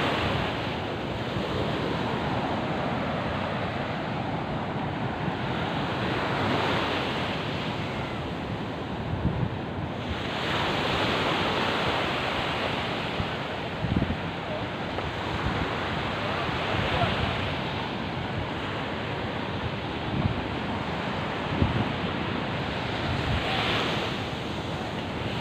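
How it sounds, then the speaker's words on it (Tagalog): Large Pacific Ocean waves roar and crash continuously onto Pacifico Beach, Siargao Island, loud and close, with heavy wind buffeting the microphone and faint voices underneath. "Laki ng mga alon."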